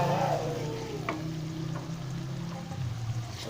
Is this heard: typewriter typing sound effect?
no